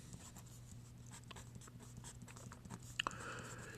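Hand writing an equation with pen on paper, faint soft scratchy strokes in quick bursts over a low steady hum, ending with a couple of sharp taps.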